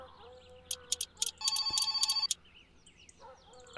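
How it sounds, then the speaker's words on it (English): Telephone ringing inside the driving game My Summer Car, a few sharp bell-like chimes followed by a sustained electronic ring lasting under a second, heard over faint background game noise. "And the phone again."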